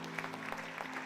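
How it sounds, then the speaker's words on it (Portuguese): Church congregation applauding, a dense, even patter of many hands clapping at once, steady and moderately quiet throughout a brief moment. "Você que crê, aplaude o Senhor nessa manhã"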